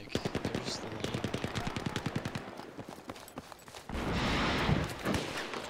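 Gunfire in the video game Battlefield 3: a long, rapid burst of automatic shots, loud and close, then a stretch of dense, noisy rumble before a few further cracks.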